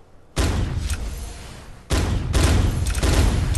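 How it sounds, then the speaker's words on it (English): Gun sword blasts in the VR game Swordsman VR, shooting enemies: two loud, sudden booming bursts, each followed by a dense sustained rumble of fire and impacts, close and forceful. "I have a gun sword that can shoot like a gun"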